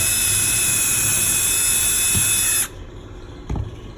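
A loud, steady high-pitched whine of a power drill drilling down for a DP plug runs continuously, then cuts off abruptly, followed by a soft knock.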